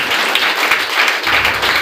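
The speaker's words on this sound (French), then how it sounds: "Applaudissons le Seigneur très fort" A church congregation applauds during a Sunday worship service, the clapping dense and loud with a slightly uneven rhythm and a few voices faintly mixed in.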